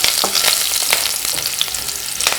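Crushed garlic cloves and a split green chilli sizzle steadily in hot oil for a bottle gourd poriyal. The close, continuous frying crackle carries small stirring clicks throughout.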